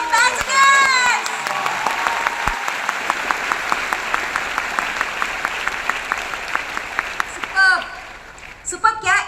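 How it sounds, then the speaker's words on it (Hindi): An audience at a meeting claps in a steady burst of applause lasting several seconds, with a voice speaking over the start and again as the clapping fades. "और खुद के लिए एक बहुत बड़ी ताली"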